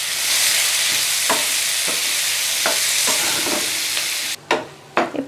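Chopped tomatoes with salt sizzle steadily in a hot pan, a loud continuous fry with a few soft stirring scrapes, then the hiss drops away and clattering knocks follow near the end.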